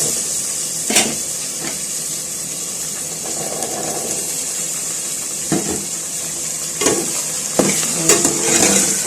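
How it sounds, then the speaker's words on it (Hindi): Chicken frying with potatoes, peas and carrots in a pan, a continuous loud sizzle broken by several sharp scrapes and knocks of a spoon stirring. "चिकन को सब्जियों को भून लूँगी अच्छे से। ताकि सब्जियां भी चिकन के साथ ही फ्राई हो जाएं।"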